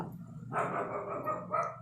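Dogs yap and bark from further off in a brief, rough burst over a low background hum.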